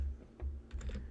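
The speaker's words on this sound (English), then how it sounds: "just start typing units" A computer keyboard clacks through a short run of quick, close keystrokes while entering a command in AutoCAD Civil 3D, an irregular cluster of taps with no talking.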